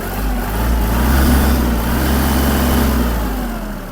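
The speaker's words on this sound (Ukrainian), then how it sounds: "Добавлю обертів." Loud, close engine revving of a Kubota GL-220 mini tractor with a D1463 1450 cc engine, holding a raised throttle, a low droning rumble that swells and then eases off, with no voices.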